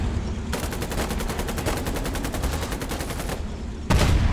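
Rapid gunfire from the online war game Foxhole during an assault on a town hall, loud bursts of fast repeated shots in a sustained volley, a brief pause, then another heavy burst.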